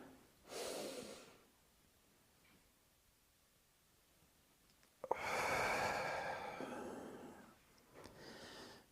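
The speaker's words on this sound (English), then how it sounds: "Breathing in." During a taiji class, slow deliberate breaths are drawn in and let out. A soft, quiet inhale comes first, then a longer, fuller exhale and a final short breath, with near silence between them.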